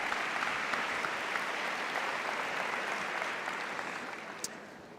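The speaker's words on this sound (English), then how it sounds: "Let's get a round of applause." A large crowd applauds at a school district convocation, sustained clapping that stays full and then gradually tapers off toward the end.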